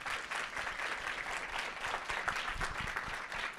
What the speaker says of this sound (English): Please, a round of applause for Nandita.